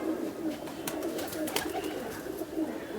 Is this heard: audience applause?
no